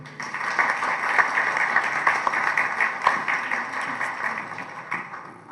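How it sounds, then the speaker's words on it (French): An audience at a public event applauds young people, a sustained crowd of clapping hands at moderate distance that carries on evenly for several seconds before starting to thin out. "applaudissons-les"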